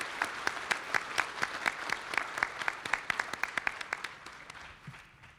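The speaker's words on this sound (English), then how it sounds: "Can we get a round of applause Yeah. for Eve L. Ewing?" Scattered audience clapping at a convention's opening ceremony, sharp distinct claps in a loose rhythm that thin out and fade away after about four seconds.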